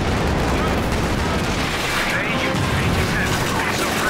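Aircraft strafing gunfire sweeps across an enemy base in a Company of Heroes 2 battle, a dense, loud, continuous barrage of rapid shots and impacts filling the whole stretch.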